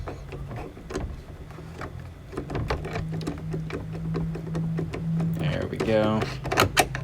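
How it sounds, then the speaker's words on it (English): A self-tapping screw is driven through a plastic panel of a Suncast Craftsman horizontal resin shed, a steady whirring grind lasting a few seconds, close by, with someone talking over and around it. "you use a self-tapping screw, and you just kind of jam it through the plastic."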